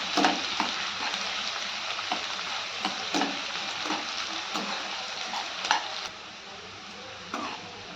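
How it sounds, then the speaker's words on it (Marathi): Chopped onion sautés in a pan for Marathi shev bhaji, a steady close sizzle and frying crackle running throughout, with occasional scraping stirs of a spatula punctuating it; no one talks. "आता हा कांदा आपल्याला छान असा गुलाबीसर रंगावर येईपर्यंत परतून घ्यायचा आहे."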